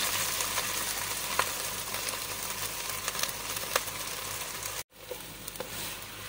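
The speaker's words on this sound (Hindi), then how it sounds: "ये मैंने इसमें आधा किलो प्याज डाले हैं ये बारीक काट के" Half a kilo of finely chopped onions fry in a pan with a steady, moderate sizzle, broken by a brief silent gap near the end before the frying hiss resumes.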